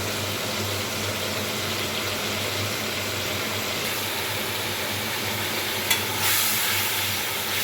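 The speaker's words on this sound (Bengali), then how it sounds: "লবণ হলুদ এক চামচ কাঁচা লঙ্কা বাটা এবং মশলাটাকে খুব ভালোভাবে কষিয়ে নেব" Masala with salt, turmeric and green chili paste fries in a pan, a steady, even sizzle held throughout with a low hum beneath and one brief knock near the end, no voices.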